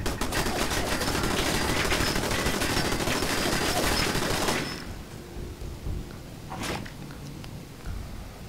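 Dense, continuous video game gunfire with rapid automatic bursts fills the first half, then cuts off abruptly, leaving sparser scattered shots and a few sharp bangs at lower level.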